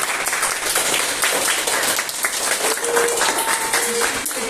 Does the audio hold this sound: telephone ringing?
no